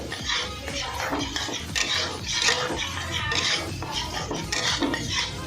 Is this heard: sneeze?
no